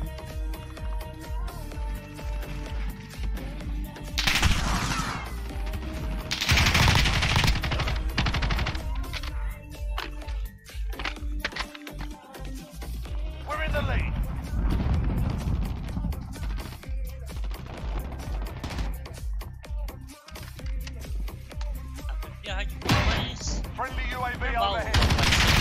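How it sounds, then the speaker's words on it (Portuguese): Gunfire from the Call of Duty Modern Warfare beta on PC comes as repeated bursts of automatic weapons and single shots, with occasional heavier blasts and crashes, loud and sustained over the whole stretch. "É mostrar o realismo do tiroteio."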